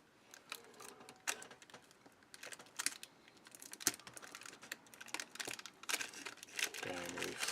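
Adhesive tape is pulled and torn in small crinkly bursts while a piece is stuck down during a sewing session, with quiet rustling between the bursts and no clear talk.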